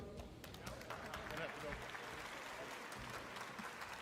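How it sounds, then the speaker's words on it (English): Crowd applause at the Game Awards 2022 ceremony for a kid who got up on stage, a steady dense wash of clapping running throughout with voices mixed in. "And yet the crowd claps for him"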